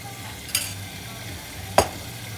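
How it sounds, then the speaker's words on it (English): Yellow noodles with fish balls and fish cake being stir-fried: a low sizzle runs throughout, broken by two sharp spatula clanks against the wok. "Just keep mixing it for about 2 to 3 minutes, just so that the fish balls and the fish cake will cook"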